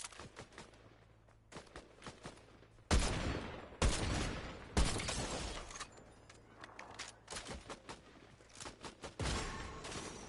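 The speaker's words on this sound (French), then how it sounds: "Ça tire d'en haut." Fortnite gunfire from above: several loud, sharp bursts of shots crack out around the middle and again near the end, over quieter in-game footsteps and ambience with no talking.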